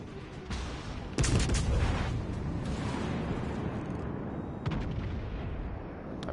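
Heavy naval guns fire in a World of Warships battle: a few loud, booming shots, at about half a second, just over a second and mid-clip, each trailing into a long rumbling decay over a steady background.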